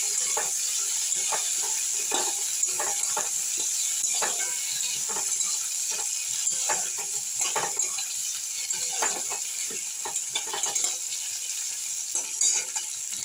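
Tomato fries in a hot pan for vegetable dal, a steady loud sizzle with repeated scraping strokes of a spoon stirring close by, and no talking.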